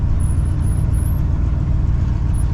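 A car being driven after repairs, with a loud, steady low engine and road rumble that stays close and continuous throughout.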